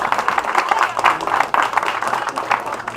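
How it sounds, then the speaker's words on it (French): Audience applause for sailor François Gabard at a Saint-Malo event, a steady patter of clapping with crowd murmur and a voice mixed in throughout. "C'est François Gabard que vous applaudissez"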